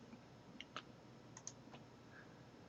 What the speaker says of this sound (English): press delete on your keyboard and delete those faces